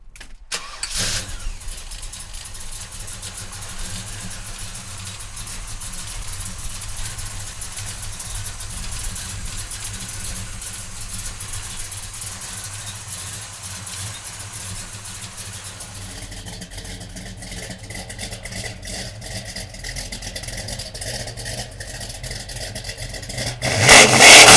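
A 1970 Chevrolet Chevelle convertible with a GM Performance 502 engine cranks and fires, then settles into a loud, steady rumbling idle with light revs, ending in a louder burst near the end; no voices.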